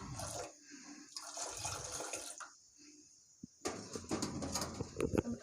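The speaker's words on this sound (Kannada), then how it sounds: "ನಿಮಗೆ ಎಷ್ಟು ನೀರು ಬೇಕೋ ಅಷ್ಟು ನೀರನ್ನ ಸೇರಿಸ್ಕೊಳ್ಳಿ" Water is poured and sloshes into a pot while moong dal payasam with coconut and almond is being made, coming in short uneven bursts with quiet gaps, fairly faint and close.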